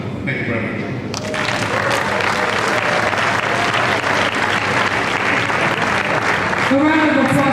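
Sustained audience applause at a leadership conference, a dense, even wash of clapping after a speech that swells slightly near the end, with a voice briefly audible at the start and close.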